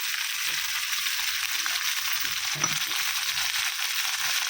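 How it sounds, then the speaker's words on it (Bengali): Ginger and garlic frying in a pan on a small stove, giving a steady close sizzle with a few soft stirring scrapes and a brief louder knock near the middle. "এটা এখন লাল করে ভাজা হোক"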